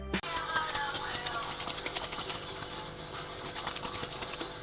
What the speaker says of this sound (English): that is the sound of buttermilk forming